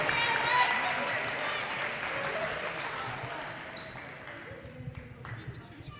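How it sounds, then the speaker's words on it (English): Crowd applause in a gym at a women's college basketball game against Queens College, a broad steady wash of clapping and cheering that slowly thins toward the end. "One more round of applause for Alexa Chiarolo."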